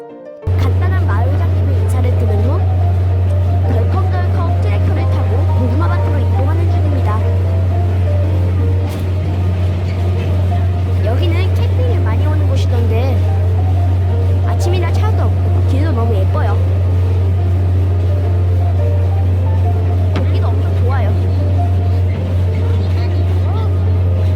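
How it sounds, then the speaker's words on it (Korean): Farm tractor engine running while riding during a rural farm visit, a loud steady low rumbling drone throughout with faint talk now and then. "오늘 우리의 다리가 되어줄 트랙터입니다."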